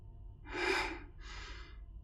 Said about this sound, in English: Hear heavy breathing on the other line.